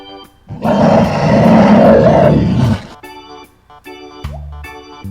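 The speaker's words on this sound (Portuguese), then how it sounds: "urso" A bear lets out a single deep, rough growl lasting about two seconds, loud and close, followed by bouncy children's music.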